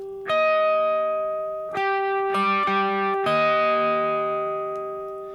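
A distorted electric guitar plays a power chord, then strikes minor sixth intervals in a few sharp, ringing attacks, each note sustaining cleanly alone with no talk.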